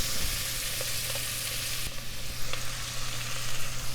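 Onions sizzling steadily in a pan as they cook, a continuous close hiss with a few faint clicks from stirring.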